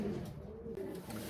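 Racing pigeons give soft, low cooing calls close by, a steady murmuring burble that carries through the short stretch without pause.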